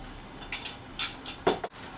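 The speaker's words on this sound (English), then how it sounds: "Give it a bit of a stir." Chicken being stirred in a frying pan: a few close, sharp scrapes and clinks of a utensil against the pan, spaced irregularly over a quiet background.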